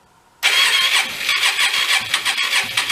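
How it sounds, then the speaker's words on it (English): A Hyosung Aquila motorcycle that died nine years ago suddenly fires up and revs under light throttle, a loud, close engine with uneven surging pulses, no talk. "You want to try giving it a little throttle? Just a little."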